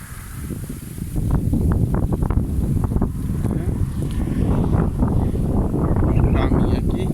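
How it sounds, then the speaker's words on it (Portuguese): Strong headwind buffeting a microphone while cycling outdoors, a loud continuous low rumble and gusty roar that swells after the first second and stays heavy throughout, with a voice speaking briefly over it. "Contra o vento ali tá um sufoco."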